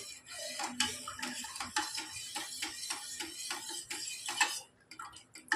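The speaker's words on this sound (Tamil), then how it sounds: "கரண்டியோ ஸ்பூன் எடுத்து கட்டி இல்லாமல் கரைச்சி எடுத்துருங்க" A ladle or spoon stirs ragi porridge in a pot over medium heat, making close, evenly paced scraping strokes that repeat steadily before stopping.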